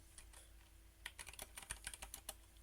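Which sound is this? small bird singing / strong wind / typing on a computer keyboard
typing on a computer keyboard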